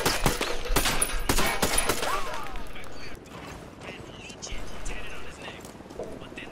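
Gunfire erupts behind the player in the Ghost Recon Wildlands video game, with rapid bursts of shots over the first couple of seconds, then scattered further shots as players talk over it.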